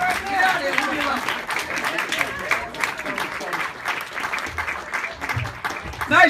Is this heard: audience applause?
yes